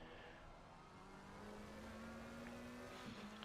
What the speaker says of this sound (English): Gotta love the McLaren sound.